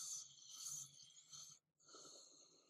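Ujjayi ocean breath drawn through a constricted throat, a raspy, snore-like hiss in two long breaths separated by a brief pause, close and fairly quiet with no talk.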